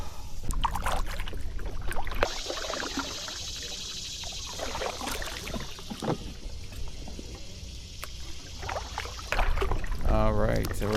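A kayak paddle dips and pulls through the water of Germantown Lake, giving soft splashes and trickles spaced across the clip. A person speaks over the quiet water sounds.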